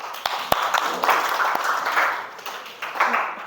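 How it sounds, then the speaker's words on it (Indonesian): Classroom of students clapping their hands in a lesson, a burst of claps that swells and fades over a few seconds, fairly close, with some voices mixed in. "ya tepuk tangan dulu"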